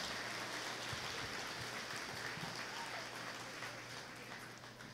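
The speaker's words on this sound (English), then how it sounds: "please give the staff a big, big round of applause for all the work that they do" A luncheon audience applauds the club staff in a dense, steady wash of clapping that holds fairly loud throughout and eases slightly toward the end.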